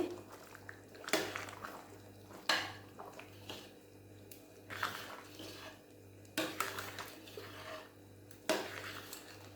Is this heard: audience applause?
no